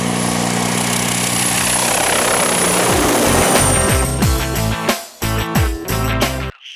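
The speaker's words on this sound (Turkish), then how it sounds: "Türk Havacılık ve Uzay Sanayi TUSAŞ tarafından üretilen Atak helikopteri" A TUSAŞ-built Atak attack helicopter flying, its steady rotor and turbine drone loud and close, then broken by abrupt cuts toward the end.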